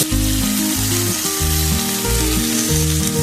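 Canned sliced potatoes seasoned with salt and pepper frying on a griddle, a loud, dense, steady sizzle throughout, with a low repeating tonal pattern underneath.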